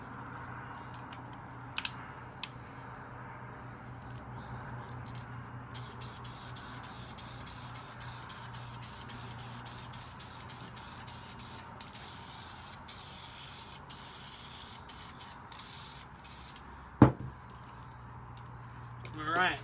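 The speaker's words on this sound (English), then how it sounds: "Now we're going to go ahead and spray this section here." Repeated short bursts of spray adhesive hissing from an aerosol can onto a pedalboard for carpet, growing more frequent toward the end, with a few sharp knocks and faint background hum.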